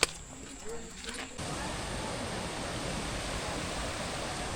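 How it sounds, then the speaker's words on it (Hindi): A small waterfall rushes on a monsoon trip in the Malshej Ghat hills, a steady, full roar of falling water that cuts in after a brief, quieter opening with faint voices, then continues unbroken. "बीच में एक छोटा सा झरना आया।"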